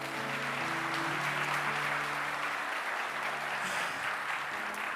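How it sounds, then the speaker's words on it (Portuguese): Steady, dense applause from a church congregation, a continuous wash of clapping held at an even level throughout with no voices standing out. "Você pode dar o seu melhor aplauso a Jesus?"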